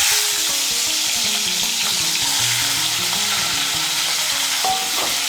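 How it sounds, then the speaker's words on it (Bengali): Prawns rubbed with salt and turmeric sizzle steadily in hot oil, a loud, continuous close-up frying hiss with faint clinks of stirring throughout. "তেলটা গরম হলে প্রথমে এর মধ্যে চিংড়ি মাছগুলো ভেজে নেব।"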